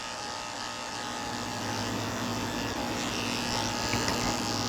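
Electric dog clippers with a 7 blade shaving down a Mini Goldendoodle, a steady close buzzing motor hum that holds at an even level throughout with slight variation as the blade moves through the coat, no talking.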